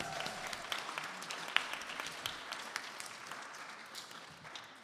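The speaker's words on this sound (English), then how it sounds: "Please give them a round of applause for that." Applause from a gathered audience honouring a couple's 20th wedding anniversary at a Guru Purnima celebration, steady and moderately soft with scattered sharper claps across the whole stretch, no talking.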